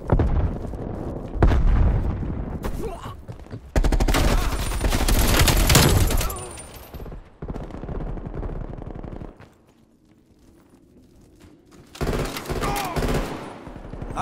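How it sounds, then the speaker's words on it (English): Frag grenade explosions and heavy gunfire in Call of Duty: Black Ops Cold War multiplayer on PS5, loud broadband bursts with sustained rattling shots across the clip, a quieter gap near the end before more blasts. "Sending frag grenade."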